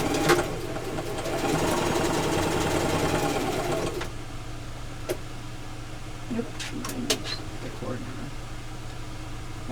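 A sewing machine stitches quilt fabric for a disappearing nine patch block, running in a fast, steady whir for about four seconds before stopping, followed by quieter handling noises while a person talks.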